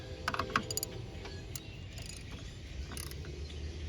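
A ratchet with an 18 mm socket and extension tightens a bolt on a 2007 Cadillac DTS power steering pump, quick faint clicking bursts near the start, then quieter mechanical ticks over low background noise.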